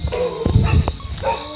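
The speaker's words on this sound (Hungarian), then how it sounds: "Ugatnak a kutyák." A puppy and other dogs give a few short barks and yips, close by, with brief bursts in quick succession.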